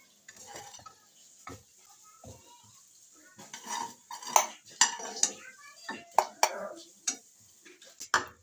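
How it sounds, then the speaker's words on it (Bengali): A spoon scrapes and knocks against a metal wok in short, sharp strokes as thick bottle gourd leaf paste is moved into a mixing jar, close and fairly quiet. "কড়াই থেকে আমি মিক্সিং জারের মধ্যে নিয়ে নিচ্ছি"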